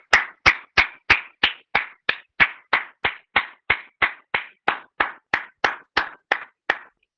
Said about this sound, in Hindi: आइए हम इस सुंदर गवाही के लिए जोरदार तालियां बजाते हैं